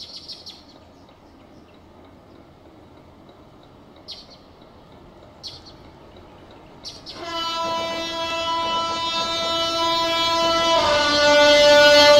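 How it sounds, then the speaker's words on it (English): A train approaches Northcombe Waverley station with a rising rumble, then a loud sustained multi-tone horn sounds twice as it passes close by without stopping. "The approaching train is not scheduled to stop at the station."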